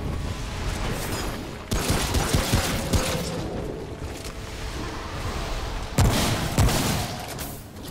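Shotgun fire in a co-op shooter video game, heavy booming blasts cutting through a dense, continuous rumble of game noise.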